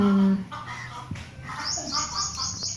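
Small sparrows chirp in a home garden, bright short tweets scattered through the clip, while a person speaks over them nearby.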